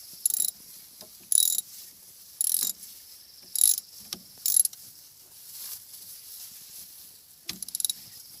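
A ratchet wrench tightens an alternator bolt on a 1992 Jeep YJ with a 4-cylinder engine: short bursts of crisp, close ratcheting clicks repeat in a stop-start rhythm, separated by quiet pauses with small metallic taps.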